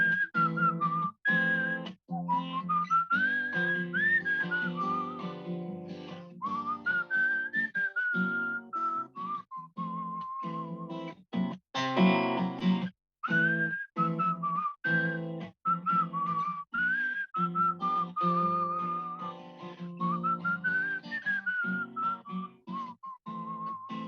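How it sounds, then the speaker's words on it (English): A person whistles a melody, a steady, close and clear tune with short breaths between phrases and no talking over it. "you'll have to endure some bad whistling"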